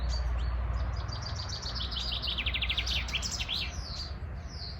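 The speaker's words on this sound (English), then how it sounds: "I got distracted about all the birds flying around." Birds chirp outdoors in quick, bright tweets, with a busy burst of calls in the middle over a low background rumble.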